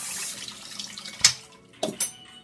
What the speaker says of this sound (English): I just run some cold water on it to kind of stop the cooking process